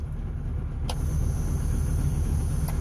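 A passing truck makes a steady broadband road rumble and engine noise close by, holding fairly even throughout with no voices.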